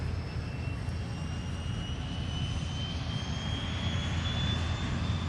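A North American T-6 Texan trainer aircraft at the EAA AirVenture fly-in in Oshkosh, Wisconsin, drones with a steady engine roar. The sound is even and continuous throughout, with no talking.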